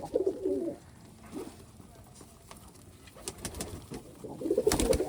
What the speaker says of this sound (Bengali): এই যে কবুতরটা ডাকাডাকি করে